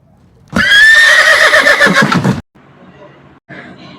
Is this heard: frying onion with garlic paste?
no